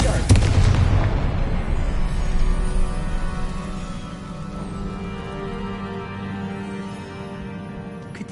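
A Confringo blasting spell in the video game Hogwarts Legacy detonates with a loud, close boom, then a long rumbling decay that slowly fades over several seconds.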